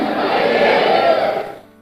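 A church congregation in Manaus shouts a loud, sustained collective cry of glory to God, a dense roar of many voices filling the room for over a second before fading quickly.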